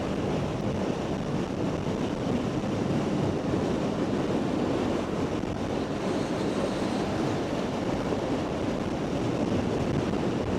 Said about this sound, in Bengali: বাতাসও আছে ভালোই।